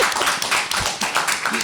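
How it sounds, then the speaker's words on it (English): A conference audience at a surgical congress session claps in a short burst of dense, close applause, with faint voices mixed in. "I think we need to give you a round of applause"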